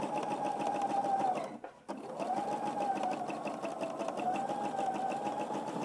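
A sewing machine stitches an Easter egg table runner with a steady, fast mechanical whirr that pauses briefly and then runs on, close and continuous.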